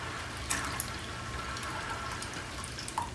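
Room temperature water pours steadily into a turtle feeding container, a continuous splashing hiss with a few small plinks, and no voices.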